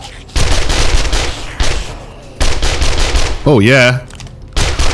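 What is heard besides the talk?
SMG submachine gun firing in video game 7 Days to Die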